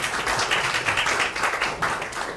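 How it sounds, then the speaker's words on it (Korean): An audience at a campaign meeting applauds, a dense, steady wash of clapping that holds at even loudness throughout the short burst. "큰 박수 부탁합니다."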